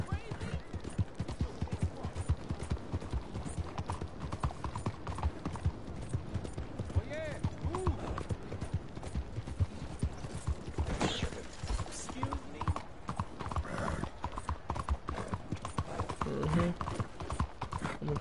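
A horse gallops in Red Dead Redemption 2 with rapid, continuous hoofbeats pounding in a driving rhythm, close and loud, while a voice talks over it.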